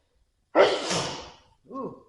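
One loud, close human sneeze bursts out after a moment of silence, then a short voiced exclamation follows.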